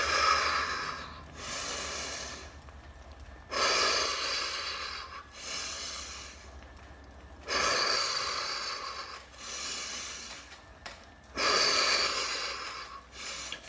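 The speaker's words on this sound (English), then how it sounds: "Inhale through the nose." Heavy, forceful breaths from a rider in the middle of a HIIT spin interval, drawn in through the nose and pushed out through the mouth. Loud rhythmic bursts of about two seconds each, with short quiet gaps between them and no talking.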